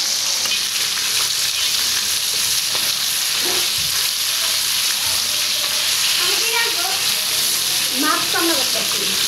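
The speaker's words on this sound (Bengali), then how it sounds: "মাছটা ভাজি হয়ে গেছে, তুলে দেবো।" Fish frying in oil in a pan for a Bangladeshi fish and sweet pumpkin curry, a steady dense sizzle running throughout with occasional spatter pops and scraping, close and fairly loud.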